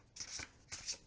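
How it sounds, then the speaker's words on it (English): Two quick bursts of shuffling, one after the other, from a deck of oversized tarot cards nearly 20 mm thick, riffled by hand. Brisk, crisp card rustles sound close and fairly quiet, with no talking. "I don't know which way to shuffle. Normal riffle, side riffle."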